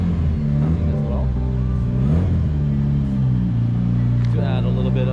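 A JDM right-hand-drive car engine rumbles loudly and close by with a deep, steady throb and slight rises in revs, continuous throughout, with voices mixed into the sound.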